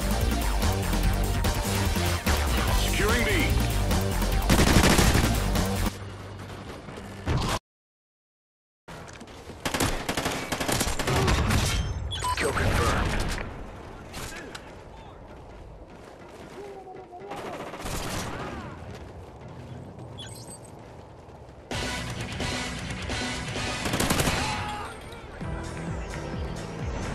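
ARX-160 assault rifle fire in the multiplayer video game Call of Duty: Ghosts, rapid automatic bursts in several loud stretches separated by pauses and a short silent gap, with game sounds and voice callouts mixed in.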